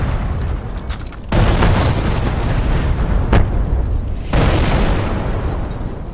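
Heavy explosions from a checkpoint assault in Call of Duty: Modern Warfare Remastered, loud rumbling booms that swell in overlapping waves with a sharp crack in between, dense and continuous.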